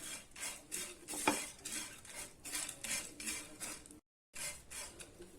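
Dry anchovies dry-roasted in a pan, stirred with a utensil that scrapes and clinks against the metal in a steady run of rustling strokes, with one sharper knock and a brief gap near the end.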